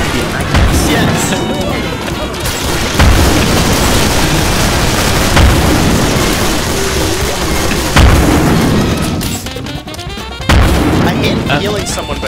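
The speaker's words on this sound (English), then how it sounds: "The brain is being grenaded by the attackers." Grenades exploding in Killing Floor: repeated heavy booms every few seconds over a constant roar of gunfire and chaos, with voices shouting over the noise.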